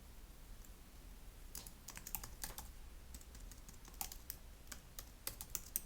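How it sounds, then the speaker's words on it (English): Irregular bursts of quick keyboard clicks, close and crisp, typing in short runs with brief pauses over a faint steady hum. "I'm having a hard time typing today."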